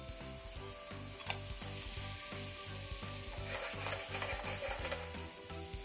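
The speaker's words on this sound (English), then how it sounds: "Into this, I'm going to start with some carrots that are just chopped roughly, some silver skin onions" Roughly chopped carrots and pickled silver skin onions sizzle steadily in a hot pan, a close, even frying hiss with faint stirring scrapes and no voices.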